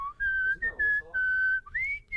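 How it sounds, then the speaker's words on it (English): A man whistles a short, clear melody in a room with echo, a few sustained bright notes broken by brief warbling runs and gaps, close and alone. "we'd take him in there and we'd have him whistle."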